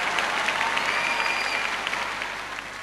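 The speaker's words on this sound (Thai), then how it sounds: "ขอเสียงปรบมือด้วยครับ" An audience claps at a concert, a dense steady patter of many hands that fades slightly toward the end, with no talk over it.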